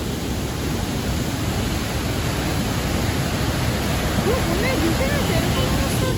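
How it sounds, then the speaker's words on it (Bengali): Water is released through a dam at Eluru village in Andhra Pradesh during the monsoon, rushing loudly in a dense, steady roar close by. "সেই ইলুরু গ্রামে কিভাবে জলগুলোকে ছাড়া হচ্ছে বাঁধে, দেখুন।"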